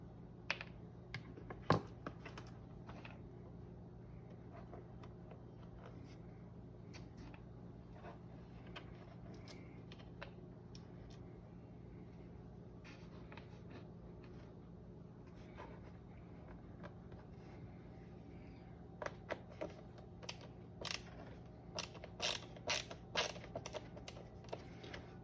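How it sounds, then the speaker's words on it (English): Small screws are backed out of a Steam Deck case with a driver, one after another, making quiet clicks and faint scratchy ticks, with a burst of light tapping near the end and no voices. "I'm just going to go ahead and pull out all these screws and stick them on the top of the case"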